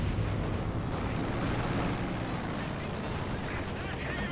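A T-70 light tank fires on a machine-gun position in a World War II strategy game, dense continuous gunfire and explosive rumble at moderate level, with a voice speaking over the battle.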